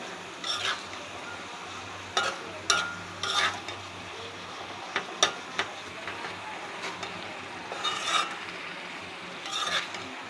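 Dried fish (shutki) being stirred in a cooking pan: intermittent scraping strokes of a utensil against the pan over a faint low sizzle, fairly quiet, with no talking.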